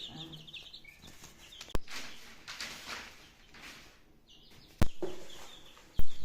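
Soft clucking from a few black chickens over a noisy background, with occasional sharp knocks and scuffs nearby.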